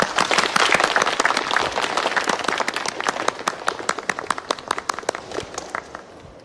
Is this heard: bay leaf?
no